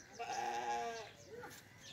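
Sheep in a village yard let out one drawn-out bleat up close, followed by a fainter, shorter call.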